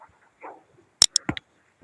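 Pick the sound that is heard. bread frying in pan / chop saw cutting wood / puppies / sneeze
puppies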